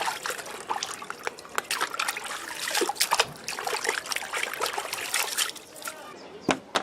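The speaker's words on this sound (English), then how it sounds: "So I wash it in the water to get rid of all the dust." Running water trickles and splashes steadily over a coaster being rinsed clean of dust, with irregular sloshing bursts throughout.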